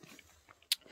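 A single crisp bite into a McDonald's Happy Meal burger, one short crunchy snap amid quiet room sound.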